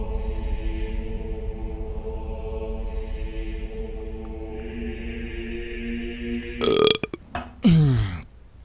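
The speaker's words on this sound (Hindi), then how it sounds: "नहीं, डकार निकल गई" A single long, deep, croaking burp rumbles on for several seconds, then ends in a few sharp, noisy bursts and a final gurgling belch.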